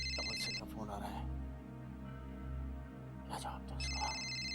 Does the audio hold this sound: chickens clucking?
no